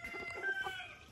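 Silkie chickens in a small prefab backyard coop give soft clucks and a faint crowing note, moderately close and quiet, with a sudden louder burst at the very end.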